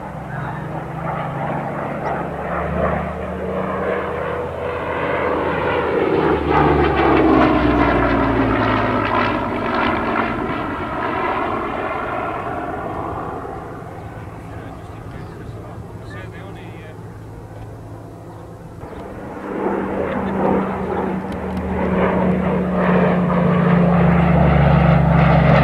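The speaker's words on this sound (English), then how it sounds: "And here's Tony flying the Hawker Hurricane." A Canadian-built 1942 Hawker Hurricane night fighter flying at the 1999 Breighton airshow, its loud propeller engine drone swelling and shifting pitch as it passes, fading, then returning with a low rumble while a voice talks over it.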